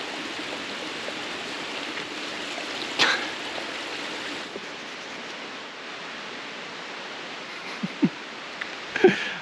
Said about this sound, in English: There's a beautiful stream right here.